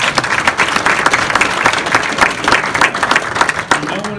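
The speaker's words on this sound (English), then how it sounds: "Please, can anyone give them a round of applause?" An audience applauds educators at a gathering: a loud, close round of clapping with many hands, dense and continuous, with a few voices mixed in.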